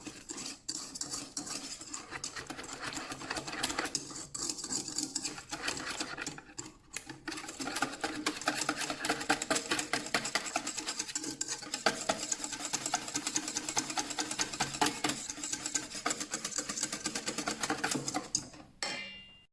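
A utensil clicks and scrapes steadily against a pan of pastry cream in quick, continuous strokes, close up and fairly quiet, with no voices.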